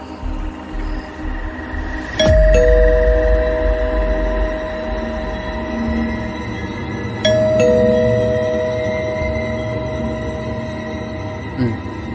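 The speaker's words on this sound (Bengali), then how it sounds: "সাহস করে কলিং বেলে চাপ দিলাম।" A door calling bell rings twice at night, each press giving a sustained electronic two-tone chime that rings on for several seconds before fading, clear and near.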